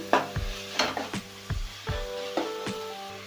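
Spring roll vegetable filling lightly cooked in a pan by a halwai, stirred with rhythmic metal scraping strokes about twice a second over a steady oily sizzle, close and clear with no voices.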